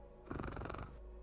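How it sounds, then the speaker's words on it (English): A cat purrs very loudly and close, a rough rumbling buzz swelling up for about half a second before dropping back to a faint background hum. "That's a loud cat."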